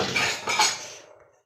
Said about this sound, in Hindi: और अब दादी बर्तनों को लगा रही है।